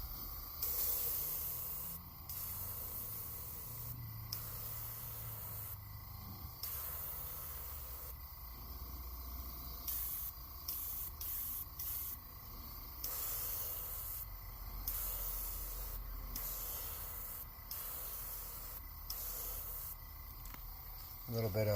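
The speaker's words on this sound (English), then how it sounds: "we're going to use this golden interference blue, and we're going to spray that on the belly" An airbrush sprays golden interference blue paint onto the belly of a hand-painted fishing lure, giving close, steady hissing in repeated on-off bursts of varying length.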